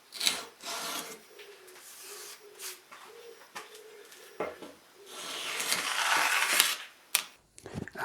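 A hand plane shaves a curved radius into the wooden body of a Les Paul Junior guitar, in a series of rasping strokes of varying length, growing longer and louder toward the end, with faint low cooing in the background.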